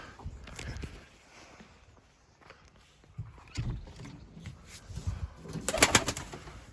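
Tumbler pigeons coo in soft, low, throaty bursts, with scattered flutters and knocks from the birds nearby and no talk.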